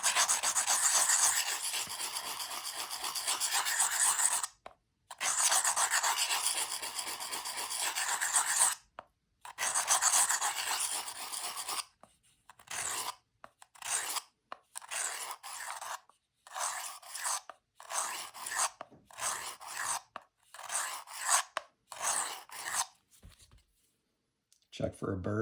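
Kitchen knife drawn across a sharpening stone, long continuous rasping strokes at first, then a quicker run of short scraping passes broken by brief pauses, close and clear.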